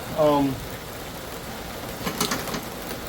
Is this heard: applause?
no